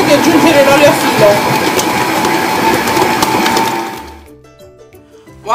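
A kitchen stand mixer kneads homemade focaccia dough, a steady close whirring motor churning for about four seconds before the machine stops and the room falls quiet.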